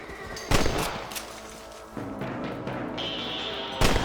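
Gunshots ring out at rabbits in Red Dead Redemption, a few loud separate cracks spaced across the scene with ambient game sound between them.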